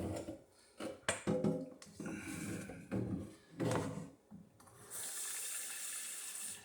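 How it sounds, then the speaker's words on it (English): Hot water runs from a tap into a measuring cup being rinsed while making apple wine at home. Clunks and handling knocks come first, then a steady, fairly close hiss of flowing water takes over. "Take a little bit of hot water."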